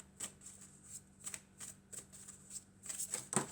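Tarot cards are shuffled and drawn by hand, making soft, rhythmic riffling flicks at close range that quicken into a brisk flurry of snapping cards at the end.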